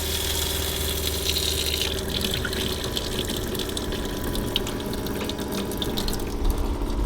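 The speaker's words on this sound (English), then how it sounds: "we should get pressurized water coming out of this tap" A pump drives pressurized water from the tap of a newly installed campervan sink, giving a steady rushing flow with an underlying pump hum that continues throughout.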